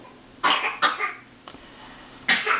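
An 8-month-old baby coughs in three separate bursts, two close together and one more after a pause, fairly near with no talking.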